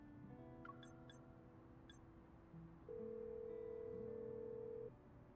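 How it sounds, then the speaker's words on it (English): A phone call ringing unanswered in a video game: a few short electronic beeps, then a steady sustained tone lasting about two seconds before it cuts off. Faint and clean, with no speech. "I try calling Caleb, but he doesn't answer the phone after 2 rings."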